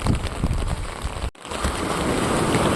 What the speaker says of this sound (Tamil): மழை மட்டும் பெய்யாமல் இருந்தால் நல்லாயிருக்கும்